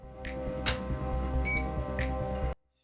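A house or garage security alarm sounds in short repeating electronic tones and bursts, loud and close, then cuts off abruptly into silence.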